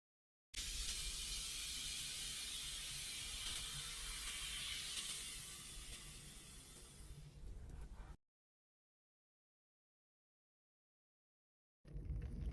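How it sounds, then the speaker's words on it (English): Tonic water poured into a Flamingo Spritz cocktail with cotton candy, a soft fizzing, hissing stream lasting about seven seconds, then silence before a brief return of fizz. "Add the tonic water."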